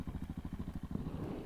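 A dirt-track motorcycle idles close by, its engine putting out a steady low, rapid thumping pulse throughout with no talking.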